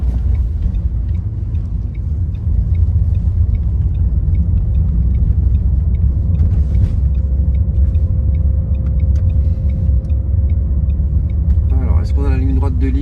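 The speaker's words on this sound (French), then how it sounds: "le but, ça va être de accélérer de manière assez franche avec le véhicule" A Renault Megane diesel accelerating hard on a road test, heard from inside the cabin: a loud, steady low engine and road rumble throughout, with a voice speaking briefly near the end.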